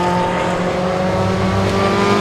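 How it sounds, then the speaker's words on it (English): GT race car engine at Donington during a 2013 UK GT Cup round, a loud, sustained droning whine heard continuously and fairly close, with no talk. "So Martin in GTC, the Roll Centre prepared car"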